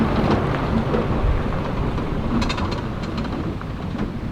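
Heavy rain falling outdoors in Barrington Tops National Park near a raging river and waterfall, a dense steady wash of broadband hiss, close and constant, with no one speaking.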